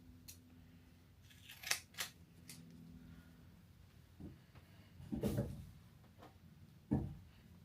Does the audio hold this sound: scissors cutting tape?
yes